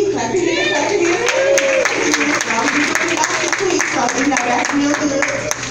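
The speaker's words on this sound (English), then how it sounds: "Clap your hands, clap your hands." An audience claps at a comedy open mic in a club, scattered hand claps running steadily under a performer's voice as he talks.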